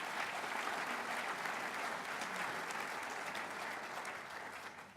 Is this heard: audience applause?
yes